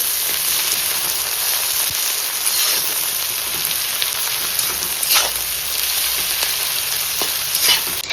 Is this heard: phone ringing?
no